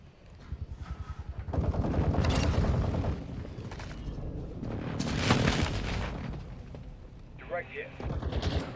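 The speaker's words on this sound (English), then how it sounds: "Precision airstrike available." Precision airstrike explosions in Call of Duty Modern Warfare II: a rumbling series of heavy blasts and booms mixed with gunfire, swelling and fading over several seconds, with some voice chatter in the mix.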